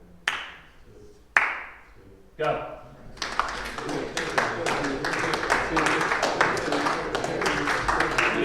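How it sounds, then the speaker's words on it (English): A group clapping hands in a rhythm game: a few isolated single claps, then many people clapping together in a quick, uneven stream, with a voice calling out once. "Just clap."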